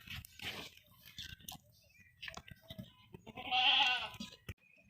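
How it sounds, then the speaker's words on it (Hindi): A goat bleats loudly and close by near the end, after scattered handling noises and brief muffled voices. "बहुत ही होशियार और ज़बरदस्त बकरा है।"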